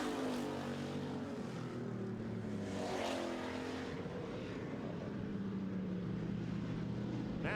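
Street stock race cars roar around a short track during a heat race, their engines droning together at a distance with rising and falling pitch as they pass, a continuous blend with no clear talk.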